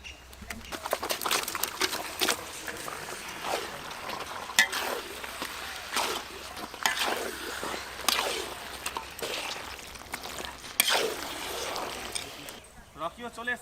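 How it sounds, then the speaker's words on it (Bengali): Meat goes into spiced masala frying in a pan at an outdoor family picnic, making a continuous crackling sizzle with intermittent stirring scrapes while people talk over it. "লবণ, মশলা কষানো হয়ে গেছে, এবার মাংস দেব।"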